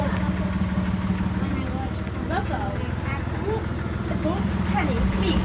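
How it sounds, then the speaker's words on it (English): A tractor pulling a passenger ride along a nature trail at a river valley adventure park rumbles with a low, steady engine drone beneath people talking throughout. "Everybody ready for our super tractor ride?"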